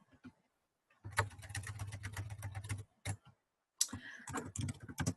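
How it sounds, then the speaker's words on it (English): Computer keyboard typing while entering text in the Canva design tool: a dense run of quick close key clicks, a short pause, another brief burst, then a final flurry of clicking. "then just type in whatever you want"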